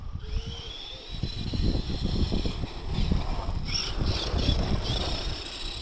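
An HPI Jumpshot RC car with a brushed motor at full throttle on a 2S LiPo, a thin steady whine over rumbling, rustling wheel and surface noise, fairly close with some wind buffeting.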